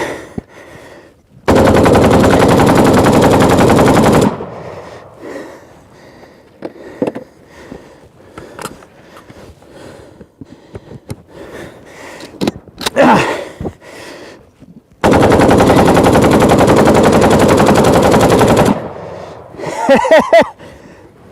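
An AK assault rifle fires two long, loud sustained bursts of rapid automatic fire, separated by a quieter stretch of scattered clicks and handling noise, with brief rattling near the end.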